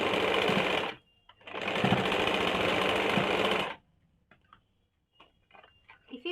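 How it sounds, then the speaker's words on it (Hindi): A sewing machine stitches cord onto a Nyra cut kurti in two loud, close bursts of rapid whirring, then falls quiet apart from faint handling clicks and rustles. "इस तरह से डोरी बीच में डाल के हम लोग इसे सिलाई कर लेंगे"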